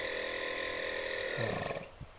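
A brushless DC motor air pump, converted from 220-volt to 7-volt DC, runs with a steady high-pitched whine over a low hum, then cuts off near the end.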